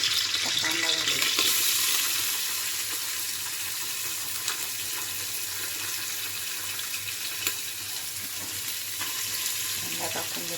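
Onion frying in a pan for a quick goat mutton curry, a steady broadband sizzle that stays fairly constant throughout, with a louder burst near the start as the onion goes in and faint kitchen clatter.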